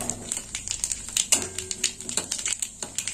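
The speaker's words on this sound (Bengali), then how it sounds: "এবার একটু ফোড়নটা ভাজা হোক।" Two dried red chillies and nigella seeds fry in hot oil, giving a crackling, sizzling patter of small pops with a steadier hiss, close and moderately loud, without speech.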